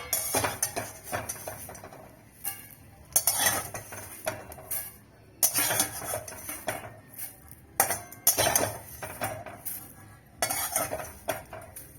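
Metal utensil scrapes and clinks against a wok while neem leaves, dry-fried without oil, are lifted out, in bursts of clatter and stirring with pauses between, close and moderately loud.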